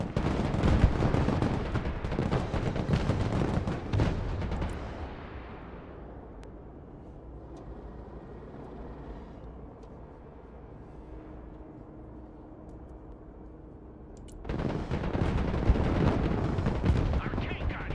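Tank gunfire and battle noise in the video game Broken Arrow, loud dense shots at the start and again at the end, with a quieter rumbling lull in between.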